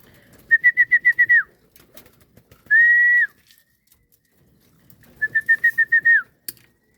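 Hungry pigeons coming in to feed give clear, close calls: two bursts of rapid repeated notes with a sustained tone between them, set against near silence.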